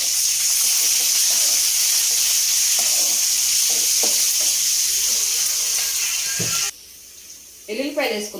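Onions, along with dried red chillies and tempering seeds, fry in hot oil for a tempering; a loud, steady crackling sizzle runs under a woman's speech, then drops off abruptly near the end as she keeps talking.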